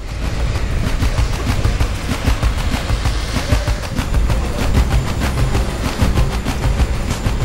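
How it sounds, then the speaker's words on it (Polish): A vintage 102NA tram runs through Gdańsk with a loud, continuous rumble and a steady run of rhythmic wheel clicks and knocks on the rails, heard up close with no talk. "zabytkowy tramwaj typu 102NA"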